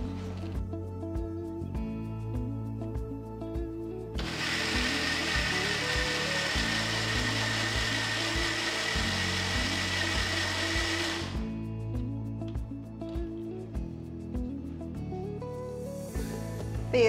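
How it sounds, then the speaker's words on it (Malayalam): Mixer grinder blending soaked rice with about a quarter cup of water for Pesaha appam batter: a loud, steady whirring grind running for about seven seconds, set between quieter kitchen handling and music, with no talking. "ഇതിലേക്ക് കുറച്ച് വെള്ളം കൂടെ ചേർത്ത് അരയ്ക്കാം."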